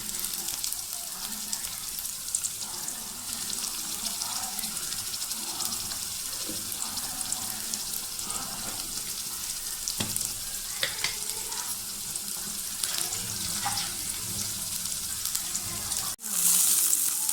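Onions sautéing with a little salt in a pan for village-style brinjal kara kuzhambu, a steady close sizzle and frying crackle with occasional stirring scrapes throughout.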